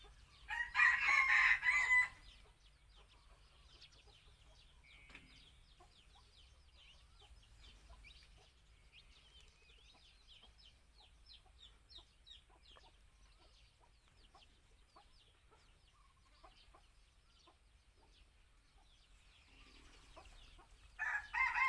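A captive wild rooster tethered on a rope crows loudly at the start and again at the end, with quieter pecking and clucking sounds at ground level in between, the bird fairly close.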